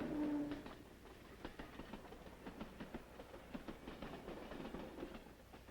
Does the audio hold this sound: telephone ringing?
no